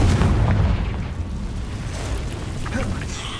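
Confringo fire explosion spell cast in Hogwarts Legacy: a loud, deep booming blast at the start that rolls off into a rumbling, crackling tail amid game ambience.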